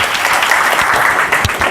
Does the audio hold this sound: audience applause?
yes